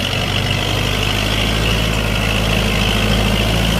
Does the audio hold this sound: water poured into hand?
no